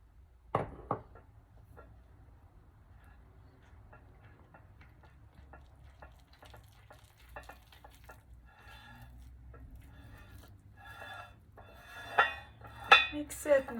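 Sourdough starter and white bread flour are stirred together in a bowl, giving quiet scraping and intermittent clinks of a utensil against the bowl, growing louder near the end.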